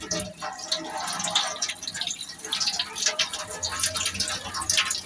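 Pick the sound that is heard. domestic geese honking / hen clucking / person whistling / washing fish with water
washing fish with water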